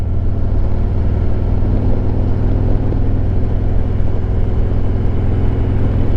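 A Harley-Davidson Road Glide Limited motorcycle out on a ride, its engine giving a loud, steady low rumble mixed with road and wind noise throughout, with no one talking.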